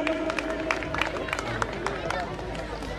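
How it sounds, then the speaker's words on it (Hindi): Scattered hand claps and crowd babble rise from the audience at a Holi Milan gathering of Shri Ram Kala Mandal and Tanuj Times during an award presentation, a steady, mid-distance mix with a few sharper claps standing out. "एक बार जोरदार तालियां।"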